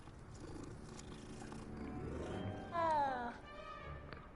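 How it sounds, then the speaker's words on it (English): A cat in Hogwarts Legacy being petted, a soft purr under low game ambience, rising into a short clear meow near the end. "Oh, gotta stop and pet the kitty."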